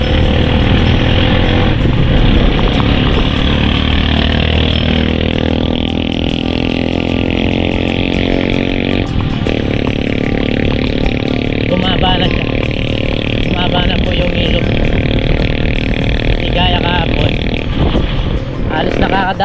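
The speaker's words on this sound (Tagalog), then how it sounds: "nakakadaan na po yung mga motor" Motorcycle engines rumble and rev steadily nearby, one passing after another, with people talking intermittently over the noise.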